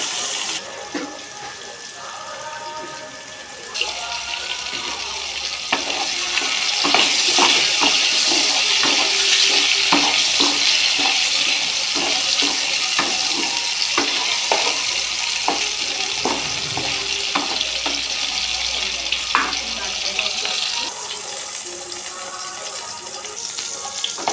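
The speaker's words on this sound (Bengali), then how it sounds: "তেলটা গরম হওয়ার পর উচ্ছেগুলো ভেজে নেব" Bitter gourd pieces tossed with a little turmeric and salt fry in hot oil, a soft start giving way after a few seconds to a loud, steady, close sizzle that hisses on with scattered crackles and stirring.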